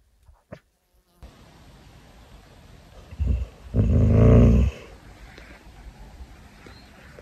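A dog growls at deer while camping outdoors, a low rumbling growl building in two bursts around the middle, fairly close and brief over a quiet background with a faint buzzing insect and a couple of small clicks.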